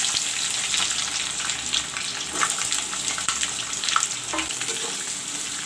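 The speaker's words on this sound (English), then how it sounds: "Now I will put in the onions." Onions fry loudly in oil with bay leaves and garam masala, a close and continuous crackling sizzle with bursts of spattering and occasional stirring scrapes.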